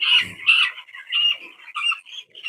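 Broiler chickens inside a poultry shed give off a string of close, chattering clucks and squawks in short uneven bursts, with brief gaps between them.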